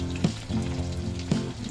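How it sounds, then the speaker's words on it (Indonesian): Battered chicken tails frying in a very hot wok with only a little oil, giving a steady loud sizzle throughout, with two brief sharper bursts of crackle. "Masukkan semua dengan wajan benar-benar panas seperti ini."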